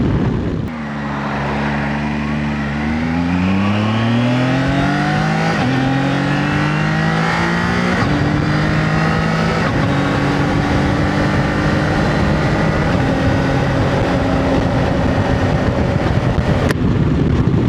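Zontes ZT 703F adventure motorcycle engine revs up hard through the gears, pitch climbing then dropping sharply at each quick shifter change, repeated several times in a loud, steady run with no talk.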